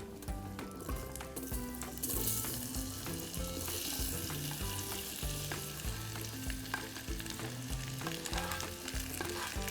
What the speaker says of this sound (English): And now the caramelization process begins